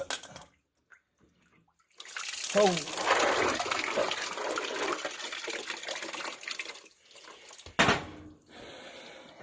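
Water gushes out of a pipe valve during a home renovation, a loud rushing flow of several seconds that starts abruptly after quiet wrench work, with a brief exclamation from a man.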